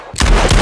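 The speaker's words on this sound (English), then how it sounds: "But gunshots!" A sudden loud burst of gunfire, sharp and close, erupting after a short quiet moment and ringing out densely.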